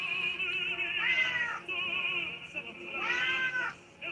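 A cat yowls loudly and close by during nail trimming, with two long, drawn-out protesting meows separated by a short pause.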